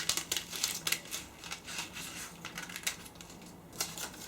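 Scissors cutting through two layers of a fabric pattern, quiet rapid snips and crisp rustling clicks in a steady irregular rhythm, close and faint.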